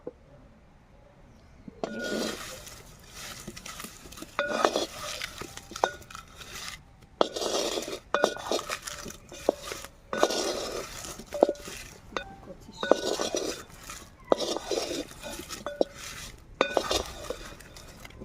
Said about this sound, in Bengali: আবারও ঢাকনা খুলবো